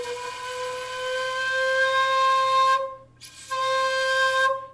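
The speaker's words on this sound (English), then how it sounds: "to opening up and having the ability to let that power sort of express a loud and robust tone" A shakuhachi bamboo flute plays a loud, robust open tone, a steady sustained note with strong harmonics that breaks off briefly near the end and then resumes.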